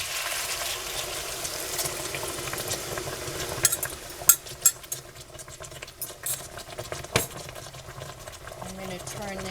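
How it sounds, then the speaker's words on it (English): Broth poured into a pot of pork chops and potatoes makes a steady sizzling hiss and splashing, with occasional clinks and taps of utensils and the pot. "I'm going to go ahead and add our broth"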